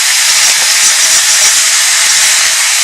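Pork belly sizzles steadily in a hot pan as it is stirred and its fat begins to render, a loud, dense, unbroken hiss with faint scrapes running through it.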